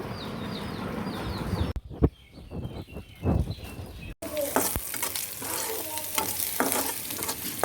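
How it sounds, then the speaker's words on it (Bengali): Chilli and garlic fry in hot oil, a close, continuous sizzle with intermittent stirring scrapes, while birds call faintly in the background during the first part. "লঙ্কা রসুন লাল করে নিচ্ছি"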